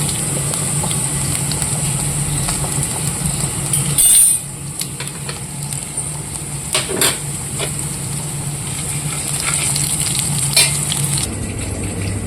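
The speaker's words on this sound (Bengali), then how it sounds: "এদিকে এই যে কলা আলু সব ভাজা হয়ে গেল, মাঝখানে দিয়ে দিলাম গোটা জিরা।" Plantain and potato pieces frying in oil in a home kitchen as whole cumin seeds go in, an even close sizzle running throughout with occasional utensil clinks and stirring scrapes, no voices.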